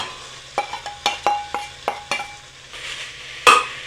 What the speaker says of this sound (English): Let's get our chilies in here.